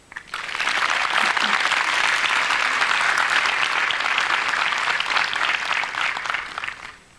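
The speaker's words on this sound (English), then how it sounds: "Give another big round of applause for the organizer." Sustained audience applause at a jsPoland JavaScript conference keynote, a dense, steady wash of clapping from a large crowd that swells quickly, holds for several seconds and fades out at the end.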